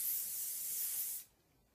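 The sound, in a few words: hairspray being sprayed on hair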